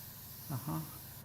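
An airbrush sprays paint in short soft bursts while painting fantasy art, two quick hissing puffs over a steady low background hiss, close and fairly quiet.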